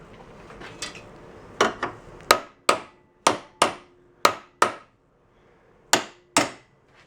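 A hammer strikes metal plate at a weld on a hand-held band saw being converted to a bench-top model, about a dozen sharp ringing blows in uneven bursts, loud and close, with no talking.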